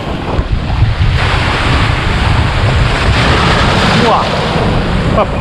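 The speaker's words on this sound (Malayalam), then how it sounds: "കടൽ അടിച്ച് കയറുന്നുണ്ട് തിര അടിച്ച് കയറുന്നുണ്ട് കണ്ടോ" Loud, continuous sea surf crashes onto rocks at Half Moon Beach in Kerala, roaring and washing close by, mixed with gusty wind buffeting the microphone; no clear voices.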